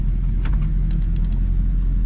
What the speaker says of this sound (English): We're pulling up to this gas station now.